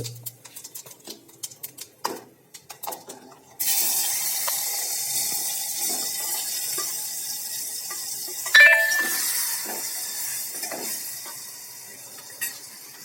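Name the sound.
cumin and asafoetida tempering sizzling in hot oil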